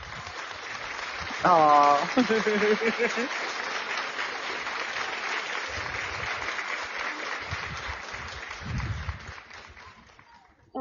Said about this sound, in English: we're going to give you some applause right now